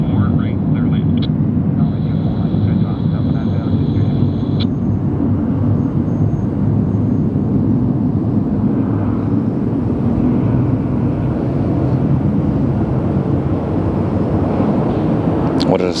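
A heavy jet airliner at LAX gives off a continuous, fairly loud low roar with no clear peaks, and a faint whine at the start, while distant voices are faintly audible.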